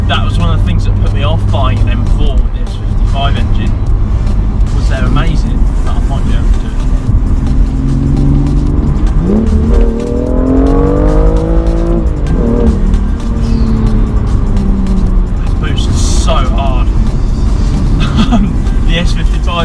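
A manual BMW M2 with loud, continuous engine noise from the driver's seat as the revs climb and fall through gear changes, with someone talking over it throughout.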